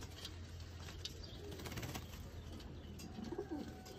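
Teddy breed pigeons coo softly at close range, low murmuring calls repeating faintly over a quiet background with a few light rustles.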